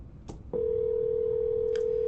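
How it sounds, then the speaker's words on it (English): A telephone gives a couple of short clicks and then a steady, loud tone like a dial or ringing tone as a call is placed, with no voices. "I need to get Tony on the phone, bro."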